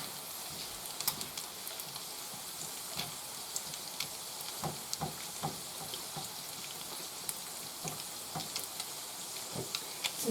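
Cod and salmon, still slightly frozen, frying in oil in a pan: a faint, steady sizzle broken by scattered small pops and scraping, with no voices.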